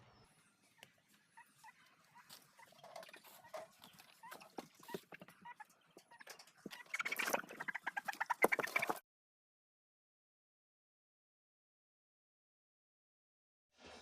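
A very large chicken, around seven kilograms, clucks and squawks amid rustling and scraping as it is pulled out. The commotion grows louder before cutting off into silence.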